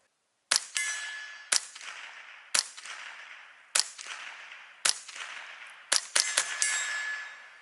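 A Remington 597 rifle firing CCI standard velocity .22 rounds at 1,070 feet per second: eight sharp, close shots, spaced about a second apart at first, then a quick cluster of three near the end, each with a short echoing decay.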